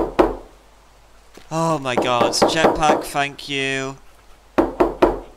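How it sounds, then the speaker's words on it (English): Knocking on a door in the game Teardown, a few sharp raps at the start and then a cluster of loud knocks near the end, with a surprised voice talking in between. "Yeah, stop knocking now."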